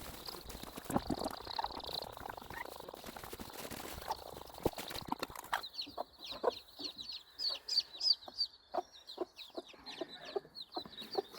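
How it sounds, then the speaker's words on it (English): Newly hatched Moran Bantam and Silkie chicks cheep in rapid, high, repeated peeps close by, faint at first under rustling and handling noise, then clearer and more insistent in the second half. "So these only hatched yesterday. So we've got the little black ones are Moran Bantams, and then the other three are Silkies."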